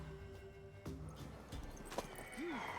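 A mare in The Witcher 3 video game makes brief horse sounds, with short snorts and a rising whinny-like call over a dense game soundscape.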